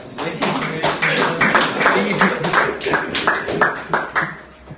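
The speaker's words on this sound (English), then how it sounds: "Let's give a big round of applause." Applause from a small audience at the close of an online PPC marketing training session, a steady patter of overlapping hand claps at close range, with a voice speaking over part of it.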